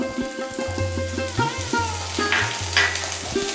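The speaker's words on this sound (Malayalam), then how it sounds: "നന്നായിട്ട് ഇളക്കിയെടുക്കാം." Chopped shallots and garlic get stirred in a hot pan for a brinjal curry, a spoon scraping and tapping in a quick rhythm over a continuous sizzle, close and fairly loud.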